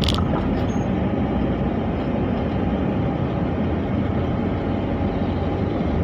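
A train rumbles steadily over the PJL 23 railway crossing near a roadside factory in Mekarsari, Cicurug, a loud continuous low roar that holds through the whole stretch with no voices over it.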